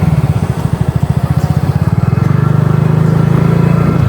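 A scooter engine idles then revs up steadily during a riding lesson, a loud, close, pulsing motor hum that rises in pitch and holds, with no talk over it.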